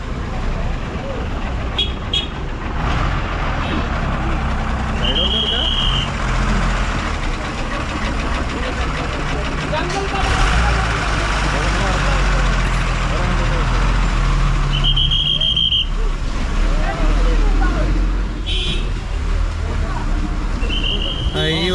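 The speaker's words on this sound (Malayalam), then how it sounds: "ടാറ്റയുടെ ഒരു പഴയ ബസ് വരുന്നുണ്ട്." An old Tata bus rolls through busy Kasol in Himachal, its engine a steady low rumble amid roadway noise, with a few short high beeps or horn toots along the way.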